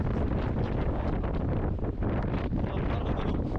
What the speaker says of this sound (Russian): Здесь так ветрено.